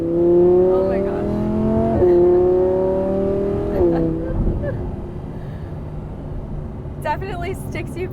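Audi R8 Performance supercar accelerating hard through quick gear shifts, its engine note climbing in steady rising sweeps with brief dips at each shift, loud and close from inside the cabin, with a voice exclaiming toward the end.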